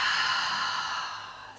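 A single audible exhale out through the mouth during a breathing exercise, a soft airy sigh that fades gradually, close and alone with no talk.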